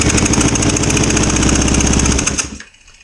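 A 2005 Kawasaki Ninja 250 engine runs loud and close with a choppy, uneven pulsing for over two seconds, then cuts out abruptly and falls to near silence.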